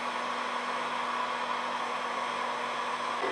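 A 1500-watt electric space heater runs on low, its fan giving a steady, even whirring hum with a constant tonal drone, heard close and alone at moderate level.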